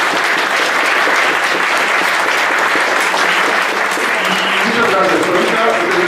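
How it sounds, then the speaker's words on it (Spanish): Audience applauding after a lecture on law and literature, a dense, sustained clapping from a crowd lasting several seconds without pause. "quiero pedirles que le demos un aplauso por esta conferencia"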